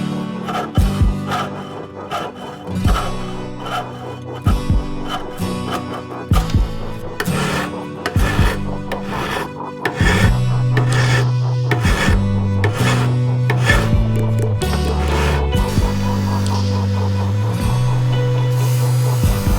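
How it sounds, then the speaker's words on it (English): A wire brush scrubs the finish off a SAP 6 metal magazine, a close, loud raspy scraping in repeated strokes, with a steady hum running underneath the later strokes. "thoroughly wire brushing the finish off of the mag where the silver soldering is going to happen"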